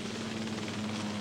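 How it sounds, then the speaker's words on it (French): Medical assistance helicopter for the Dakar rally, 1985, evacuating an injured competitor: a steady rotor and engine drone with a low hum, heard close and continuous with no talk. "L'hélicoptère d'assistance médicale du rallye s'est détourné pour évacuer le blessé."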